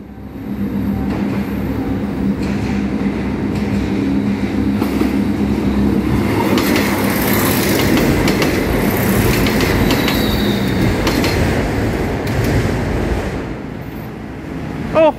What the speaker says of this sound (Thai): รถดีเซลรางเดวูมาแล้วครับ เสียงเครื่องสนั่นสุดยอด